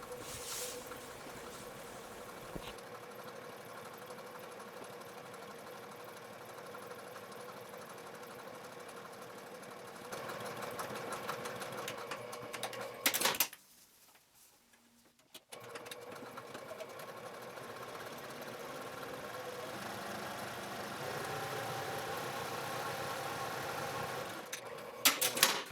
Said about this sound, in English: you can top stitch from the right side with a 1/4 inch seam allowance along both length side edges